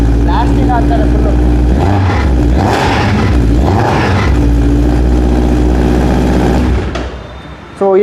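Suzuki Hayabusa engine with an Akrapovic twin silencer exhaust revving loudly and continuously, with rising and falling throttle blips close by before the sound drops briefly near the end.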